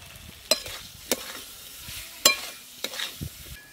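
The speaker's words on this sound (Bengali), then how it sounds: "মশলার সঙ্গে ফুলকপিগুলো আরেকটু ভালো করে কষে নেব" Cauliflower sautés with spices in a pan under a quiet sizzle, broken by a series of sharp, irregular scrapes and clacks of a spatula stirring, close by with no talking.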